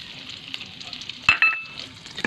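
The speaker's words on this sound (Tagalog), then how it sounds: "Tapos gisa tayo ng bawang." Garlic sizzles in hot oil in a pan while cooking pork chops, a soft crackling hiss broken by a few sharp clinks of a utensil stirring against the pan.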